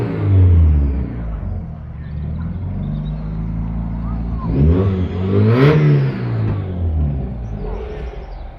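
A Mazda MX-5 revs at an outdoor motor show. A steady rumble rises into a sharp, loud rev burst around the middle, then settles back down.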